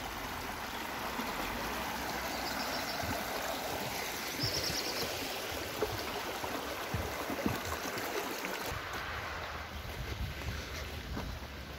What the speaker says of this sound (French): Le petit ruisseau.